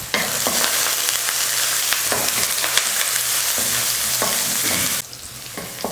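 Onions with mustard seeds, urad dal and curry leaves sizzle steadily in hot oil for a cabbage stir-fry, with a spoon scraping and stirring the pan in repeated strokes until the noise drops off near the end.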